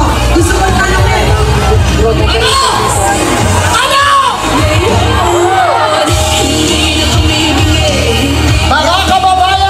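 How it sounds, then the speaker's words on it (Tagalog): A large Filipino crowd shouts and cheers loudly and continuously, with whoops and high voices rising above a dense roar and one brief dip around the middle. "Talaga nagsisigawan na dito."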